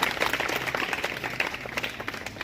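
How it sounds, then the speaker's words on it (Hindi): Students and teachers at a government school event clap for a schoolgirl, a steady patter of applause from a modest crowd, fairly close and continuous for the whole stretch. "तो राधिका के लिए तालियां।"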